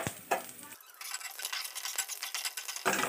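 Garlic and chili sizzling and frying in hot mustard oil with popping mustard seeds, stirred with a spatula against the pan in a steady, close, continuous crackle with scraping strokes.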